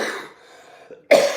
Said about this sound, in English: I started coughing.